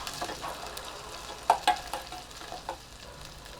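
Curry leaves crackling and sizzling in hot oil for Maharashtrian kadhi, with sharp pops and spits over a soft, steady fry, heard close and alone.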